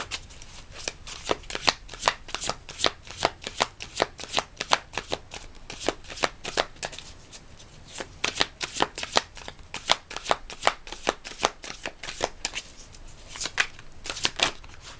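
Tarot cards riffled and shuffled by hand in a rapid, steady run of crisp flutters and snaps, close and fairly quiet, with no talking.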